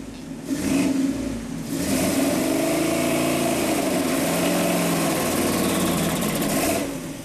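A Ford 460 V8 with modified heads and a big intake runs lean and starved for fuel, making a loud, steady, rough drone with a slight rise and fall in revs.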